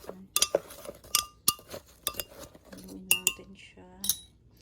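Spoon clinking against a glass while stirring a banana raspberry smoothie, with a series of sharp, bright taps and scrapes at irregular intervals, close and moderately loud, with faint background voice.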